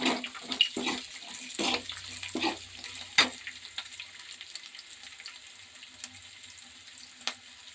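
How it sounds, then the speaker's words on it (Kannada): Onions fry in a pan for uppittu, giving a soft, steady sizzle with several louder scraping stirs near the start, heard close up and fairly quietly. "ಸ್ವಲ್ಪ ಈರುಳ್ಳಿ ಕೆಂಪು ಬಣ್ಣಕ್ಕೆ ಬರೋವರೆಗೂ ಮಾಡಲಿ."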